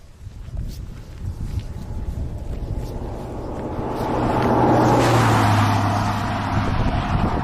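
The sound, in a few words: cars approaching from behind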